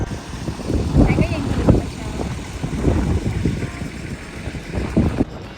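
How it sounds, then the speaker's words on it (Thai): Hot wind blows constantly across a salt flat camp in the Karum salt desert of Ethiopia, buffeting the microphone in loud gusty rumbles throughout, with a voice speaking briefly. "คือลมร้อนประทาหน้าตลอดเวลา"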